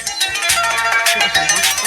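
A phone ringtone plays loud and close, a repeating melodic electronic tune with steady beats that keeps ringing without pause and with no voices over it.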